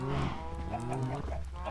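A Minecraft cow lows in drawn-out, tonal moos, steady and moderately quiet, with a second moo following closely after the first.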